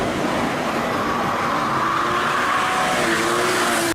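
A tuned Nissan Z32 or Infiniti Q60 car engine fitted with an HKS SSQV blow-off valve drones loudly and steadily up close, a continuous rush of engine and intake noise that cuts off abruptly at the end.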